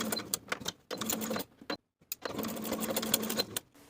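Sewing machine basting waistband edges with a quarter-inch seam allowance, running in short bursts of rapid whirring stitches with brief pauses and one full stop in between.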